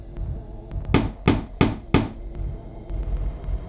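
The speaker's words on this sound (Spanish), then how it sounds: "Y volvieron a llamar a la puerta," Four firm knocks on a door, evenly spaced and fairly close, standing out over a low background hum with no voices.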